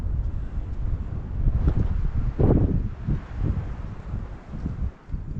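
Gusty wind blowing across an open rocky ridge trail, a steady broadband rush with stronger buffeting gusts that swell and fade, close and fairly loud against the microphone.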